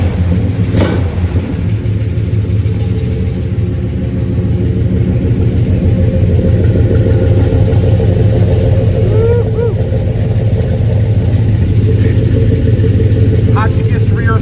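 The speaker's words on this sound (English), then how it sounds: "I want you guys to listen to the exhaust and to the engine" A 1971 Chevrolet Chevelle with a new replacement motor and a 3-inch Flowmaster exhaust system idles with a loud, deep, steady rumble throughout, and a brief sharp click is heard near the start.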